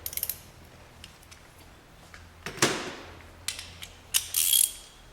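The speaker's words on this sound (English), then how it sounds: "So at first I kind of evenly just loosen them all around the fuel filter housing." Bolts on a 1.9-liter VW Jetta TDI fuel filter housing being loosened with a ratchet, giving close, crisp clicking bursts and metallic taps in short spurts.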